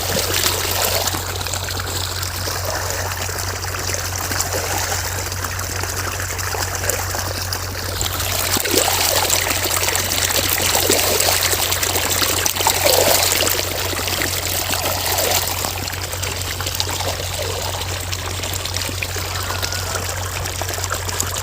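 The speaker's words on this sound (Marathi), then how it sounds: "गव्हाला देणं चालू आहे पाणी" Irrigation water flows steadily into a wheat field as a continuous close trickle and gurgle, with a constant low hum beneath it and no talking.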